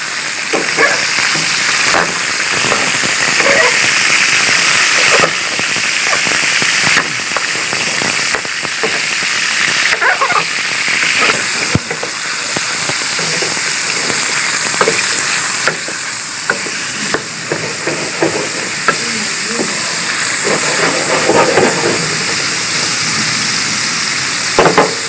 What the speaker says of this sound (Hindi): अब हम इसमें सबसे पहले चिकन डालेंगे। घी हमारा ऑयल गर्म हो चुका है।